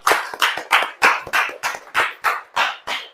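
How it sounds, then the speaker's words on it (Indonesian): Audience in a classroom clapping in a tight rhythmic pattern, about ten sharp, even bursts of applause close by, with no talking. "Oke, tepuk tangan dulu."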